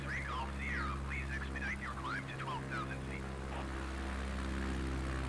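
Steady, droning propeller aircraft engine in Microsoft Flight Simulator 2020, a constant low hum with harmonic tones that stays level throughout, with faint chirping or voice-like sounds over it early on.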